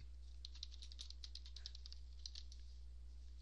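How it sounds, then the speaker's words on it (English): Quick bursts of keystrokes on a computer keyboard, light and fairly faint, a clustered patter of clicks over a low steady hum, then trailing off into quiet. "I'm typing it up so I don't forget it."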